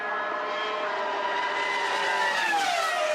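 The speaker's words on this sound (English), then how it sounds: "There is a lot of discussion about the sound of a Formula One engine of nowadays" A modern Formula One engine screams close by as a high, sharp whine that climbs steadily in pitch, heard alone with no voices.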